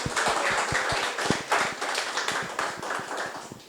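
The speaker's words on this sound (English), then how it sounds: "let's give everybody a round of applause" Audience applause following a business presentation on Japanese visas, a dense run of hand claps across the whole stretch, steady and fairly close with no talk over it.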